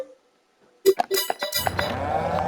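Cattle in the Farming Simulator 22 game: after near silence, a cluster of sharp livestock calls and clanking, then a steady busy layer of farm-animal noise.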